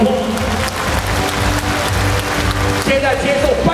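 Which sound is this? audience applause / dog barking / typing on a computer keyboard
audience applause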